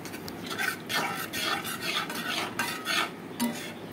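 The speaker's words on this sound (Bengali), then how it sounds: "এবার মশলাটাকে আমি খুব ভালো করে কষাবো" Spice paste for Bengali chana dal being stirred and fried in a pan with a little water, a steady scraping stir with soft sizzling and occasional utensil clinks against the pan, close and alone.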